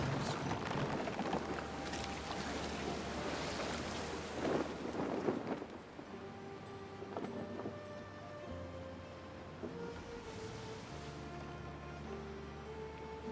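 Ship sailing through ocean waves in the Roman-era strategy game Anno 117, with washing surf and wind at first giving way to a calmer stretch of sustained musical tones.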